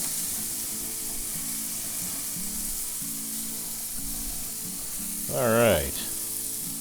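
Burgers sizzle on a Weber Spirit gas grill with a steady, even hiss throughout, and a brief spoken phrase near the end.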